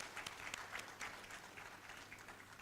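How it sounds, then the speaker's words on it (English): Audience applause at a registrars' management seminar, a steady even clapping from a crowd sustained throughout, fairly quiet and distant with no talk over it. "Let's give all of us a round of applause."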